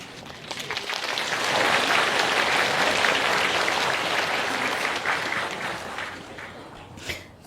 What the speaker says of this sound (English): Thank you for being so polite and generous with your clapping.